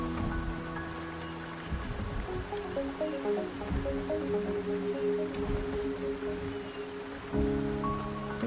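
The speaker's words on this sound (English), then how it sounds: "The rain is subsiding," Rain falls steadily in the video game Wuthering Waves, a soft continuous patter of drops on surfaces under a sustained musical drone and chime-like notes, with no voices.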